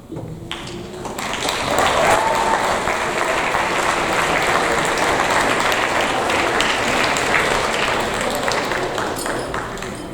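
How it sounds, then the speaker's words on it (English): Sustained applause from a large crowd at a 7th grade awards ceremony, steady and loud for the full duration, with faint voices mixed into the clapping. "one more round of applause"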